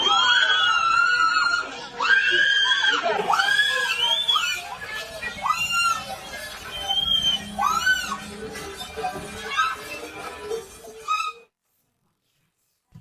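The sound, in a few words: people screaming at a protest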